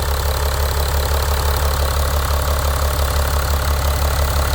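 A Porsche Cayenne 92A diesel engine idles loud and close after an intake manifold cleaning, with an even, low rumble and steady rhythmic chug, running smoothly without interruption.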